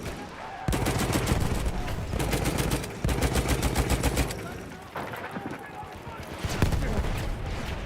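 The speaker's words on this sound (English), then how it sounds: "This is why I have the minigun and you don't!" Minigun fire in a video game, a loud continuous rapid rattle of shots in long sustained bursts with brief breaks, heavy low rumble beneath, and a voice talking over it.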